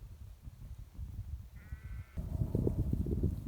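Sheep bleat outdoors along the South Downs Way, a brief wavering cry followed by louder, closer calls over low rumbling background noise, with no talking.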